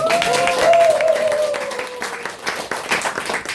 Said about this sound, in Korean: 동의하시는 분 박수